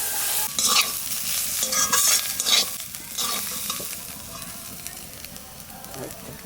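Loud, close pan-frying with turmeric for a mashed cauliflower-leaf dish, crackling sizzle punctuated by repeated spatula scrapes and stirring knocks, fading slightly toward the end.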